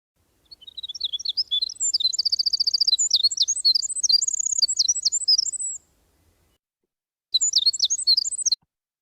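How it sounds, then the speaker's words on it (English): A winter wren sings a long, complex, rapid series of high trills and chirps, clear and alone against silence, pauses briefly, then begins another burst. "This is a winter wren."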